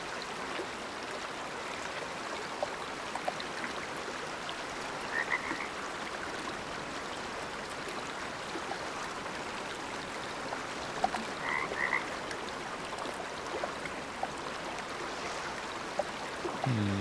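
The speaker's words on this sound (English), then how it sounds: "The stupid frogs are like louder than everything else in the game." Frogs croak steadily throughout a Way of the Hunter game scene, a dense, continuous chorus that stays loud and even from start to finish with no talk over it.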